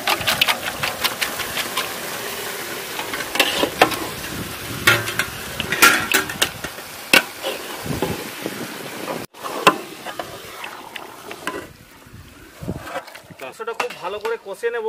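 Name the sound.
chicken meat being stirred and fried in a pot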